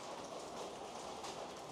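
Rain falling steadily outdoors where a Rouser 180 motorcycle is being worked on, a dense, even wash of drops on surfaces, moderately loud and continuous with no voices.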